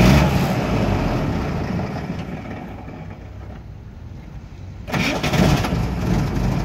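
A UAZ engine cranks with a steady churning drone for several seconds, briefly dips, then catches and runs louder, close up with no talk.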